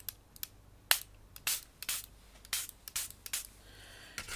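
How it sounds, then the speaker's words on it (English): Short hissing bursts from an ink spray bottle spritzing lightly onto card for a concertina tag album, about ten quick close puffs at an irregular rhythm with quiet gaps between them. "I'm just going to lightly spritz"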